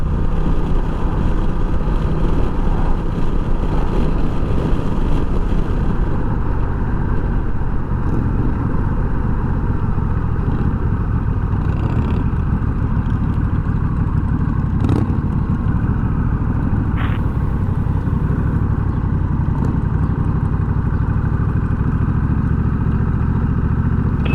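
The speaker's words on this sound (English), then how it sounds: "You could probably hear my exhaust screaming." Honda Rebel 1100 motorcycle exhaust while riding on the Texas Twisted Sisters roads, a steady loud engine drone and wind rush that holds throughout, with no talk over it.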